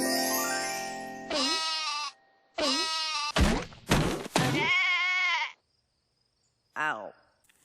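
Cartoon sheep in the Ruby Gloom animated series bleat repeatedly, loud and close: a run of wavering bleats one after another, then a pause of silence and one final short bleat.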